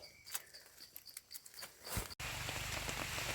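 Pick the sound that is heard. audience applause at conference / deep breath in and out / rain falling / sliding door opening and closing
rain falling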